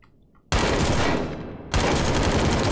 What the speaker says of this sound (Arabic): قبل شوي جربنا الاي كي والاي كي قتله، بس هلا هذا اي كي معدل